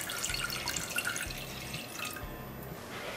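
Water from a 250 ml cup trickles and drips into a saucepan in a home kitchen, a steady splashing pour with faint thin drips, heard alone without speech.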